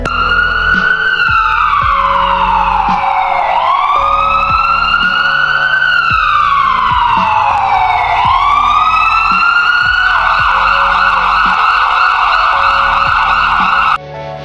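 An ambulance siren wails loudly and continuously, its pitch sweeping up and down in slow repeating cycles before switching to a faster warble near the end.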